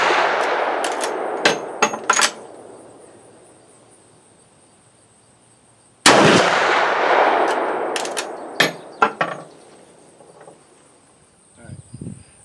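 Marlin 336 lever-action rifles in .30-30 Winchester and .35 Remington fire outdoors: two loud, sharp shots about six seconds apart, each with a long decaying echo, followed by metallic clicks and clanks of the lever action cycling.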